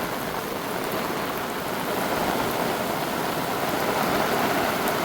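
Heavy rain pours in a dense, steady roar, with gusting wind mixed in, in a Konkan village near Vaibhavwadi; the loud, continuous wash runs throughout with no talk.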